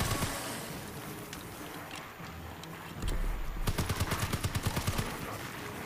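Rapid-fire gunshots in a zombie video game set in a zombie museum: a rhythmic machine-gun burst of evenly spaced loud shots over a busy, noisy game background with scattered earlier shots.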